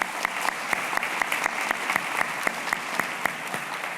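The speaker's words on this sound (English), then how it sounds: "Quick applause for the board," A festival crowd applauds its board at a book festival celebration evening, with a few sharp individual claps standing out at a steady rhythm over a softer wash of clapping, sustained for several seconds.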